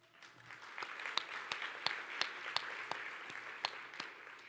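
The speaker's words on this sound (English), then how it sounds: "we're working through the clapping pretty quick" Applause from a dinner audience at a Chamber of Commerce women in business event, a regular pulse of distinct rhythmic claps over a soft wash of hands, moderately distant and continuing throughout.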